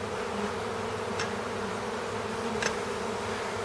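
Thousands of honeybees from a swarm taken from a house buzz steadily in the air around a box, a continuous close hum with two faint brief clicks and no talking.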